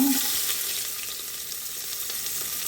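Onions sizzling in ghee in a pan, a soft, even crackle held close and steady throughout with no voices.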